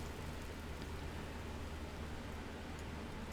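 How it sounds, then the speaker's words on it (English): Rain falling in the video game Vintage Story, a steady even hiss of downpour without breaks, fairly quiet and continuous across the short stretch, with no voices. "this rain is a little bit too loud."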